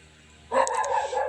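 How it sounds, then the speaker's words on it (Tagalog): Several dogs bark in a quick burst of yips and barks nearby, loud against a quiet kitchen background with no talking. "pasensya na kayo sa mga aso namin. Talagang ganyan sila kaingay."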